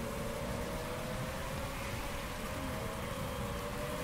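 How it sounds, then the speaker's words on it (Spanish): Rain in the Motorsport Manager racing game: a steady, dense hiss of falling rain with a low rumble beneath, constant and unbroken throughout, with no talk over it. "la lluvia va a ir reduciéndose"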